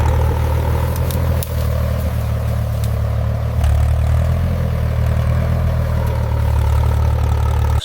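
An AI-animated tractor drives forward, its engine a steady low drone that idles loud and constant throughout, with a brief dip and faint clicks along the way.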